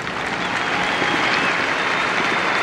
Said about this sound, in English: Fans applaud as Doyle is upright.